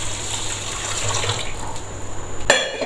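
Water is poured onto washed chana dal and urad dal to soak them, making a steady, close splashing rush that runs for a few seconds and ends with a short knock.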